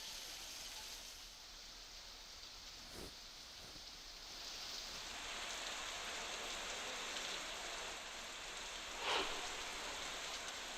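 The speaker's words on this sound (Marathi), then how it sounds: "लोणावळ्यामध्ये मुसळधार पावसाची संततधार सुरूच आहे" Heavy, continuous monsoon rain in Lonavala pours down as a steady, dense wash of drops on surfaces, even throughout with a couple of brief louder splashes, no voices.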